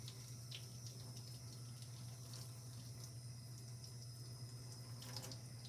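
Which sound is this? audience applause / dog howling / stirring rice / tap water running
tap water running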